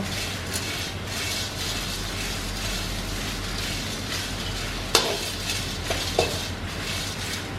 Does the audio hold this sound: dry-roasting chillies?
yes